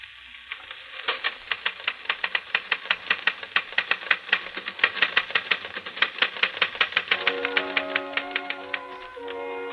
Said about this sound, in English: Yes, Charles, you're busy typing on a phonograph record